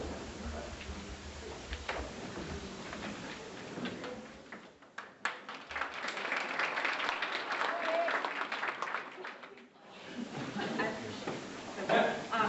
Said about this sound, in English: we applaud him